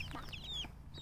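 Small backyard chickens give a few quick high cheeps and clucks against a low steady outdoor hum, close and fairly soft, with no talking.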